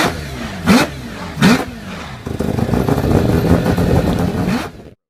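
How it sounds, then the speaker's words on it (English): Turbocharged rotary engine of a 1993-era Mazda RX-7 FD revving in two sharp blips, then settling into a loud, steady, buzzy drone that cuts off abruptly. "The FD generation RX-7, which debuted in 1993, was all about that rotary engine magic."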